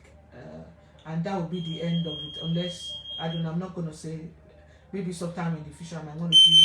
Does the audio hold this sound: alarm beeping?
yes